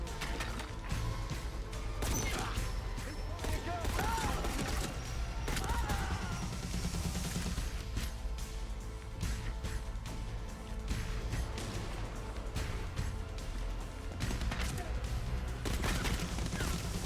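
Gunfire in the video game Dying Light: The Beast rattles on throughout a long stretch of loud combat, with repeated sharp shots and mechanical clatter over constant game noise and some voices.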